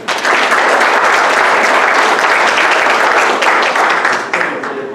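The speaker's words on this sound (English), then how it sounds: "So give yourselves a round of applause" An audience at a live-streamed event claps in a dense, loud burst of applause that holds steady for several seconds, then thins out toward the end.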